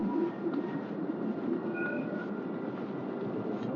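Continuous low rumble of a train on rails at a station in Jerusalem, Israel, at night, with faint squealing, steady and fairly close.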